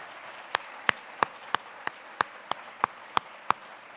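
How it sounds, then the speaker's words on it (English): Applause at a community event in Hawaii after youth performers: a few crisp claps repeat in an even, steady rhythm about three per second over a faint background of softer clapping. "Can you give them another round of applause"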